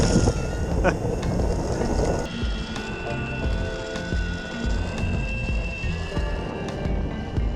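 A lead-acid electric skateboard climbs a hill at full throttle in its top gear, its motor giving a strained, steady whine with rumbling wheel and road noise and wind buffeting the microphone, while a rider talks over it.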